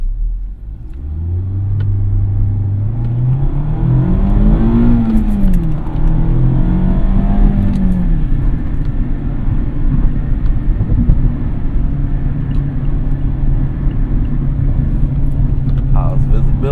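A 2020 Mazda Miata RF MX-5 drives in fifth gear, its engine droning loud and close with a rising, wavering pitch as it pulls, over steady road rumble while someone talks throughout.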